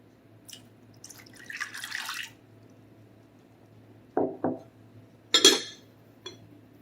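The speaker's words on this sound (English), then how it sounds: "Half a cup of water." Water poured into a bowl of cake mix for a strawberry gelatin cake, heard as a few short splashy pours and drips in a quiet kitchen, with a brief clink near the end.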